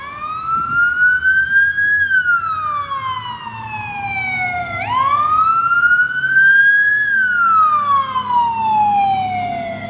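A small-town emergency vehicle siren sounds loud and near, slow wails rising and falling in long sweeps with one sharp dip in the middle, over a low engine rumble.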